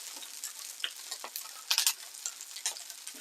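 A Thai-style pork patty sizzles and crackles in a hot pan, with small scattered pops and a brief louder burst of spatter partway through, close and moderately loud with no talking.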